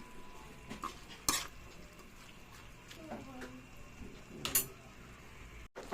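Corned beef being stirred in a pan, with a few sharp utensil scrapes and clinks against the metal, quiet and sparse over low background noise.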